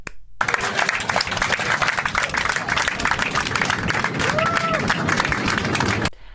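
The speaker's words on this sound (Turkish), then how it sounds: "Uçak inince alkışlama" Airline passengers break into dense, loud applause after the plane touches down, a sustained burst of clapping mixed with murmuring cabin voices that starts abruptly and cuts off after about six seconds.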